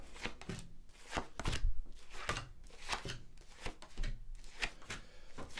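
Tarot cards riffled and shuffled in quick repeated bursts, close up, a crisp papery flutter with soft taps between, no talking.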